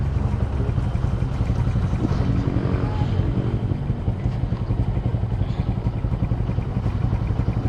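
A motorcycle engine drones loudly and steadily close by, mixed with wind buffeting the microphone, with no voices.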